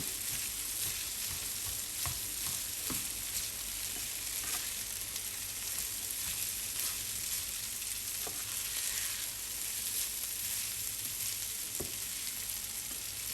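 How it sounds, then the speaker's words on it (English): Continuous sizzling and crackling of rice and vegetables frying in a hot pan for Nigerian fried rice, with occasional scrape and stir sounds, steady and close. "I'll start frying it. I'll start mixing it with the vegetable."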